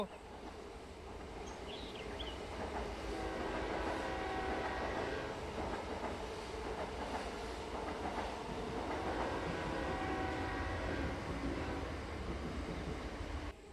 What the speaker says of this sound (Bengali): ট্রেন অনেক আগে বেরিয়ে যায়